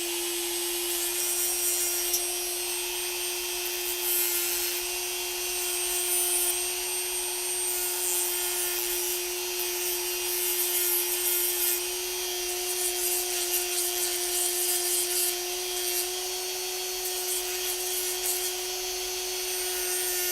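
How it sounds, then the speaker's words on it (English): High-pitched whine of a Dremel rotary tool grinding a plastic action figure continuously at a steady pitch, close and fairly loud, with gritty sanding texture throughout. "We're going to Dremel this off here."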